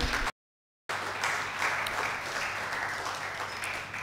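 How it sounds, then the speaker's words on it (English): Applause from an audience at a renewable energy event in Kenya, a steady broadband patter after a brief dropout near the start, held at moderate level without speech over it. "A round of applause for him."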